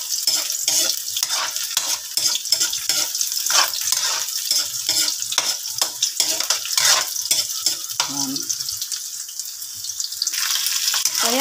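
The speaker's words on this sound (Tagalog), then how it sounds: "igigisa na natin sa sibuyas at bawang" Onion and garlic sauté in a pan before tuna goes in, a bright continuous sizzle close by with regular rhythmic scrapes of a spatula stirring throughout, and no talking.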